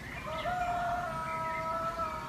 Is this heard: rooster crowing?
yes